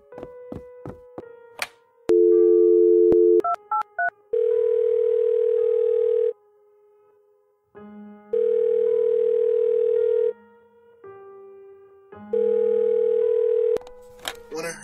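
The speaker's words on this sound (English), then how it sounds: "I ran towards the phone and called the cops." A telephone dial tone hums, broken by clicks and short dialing beeps, then long steady tones switch on and off in a repeating pattern.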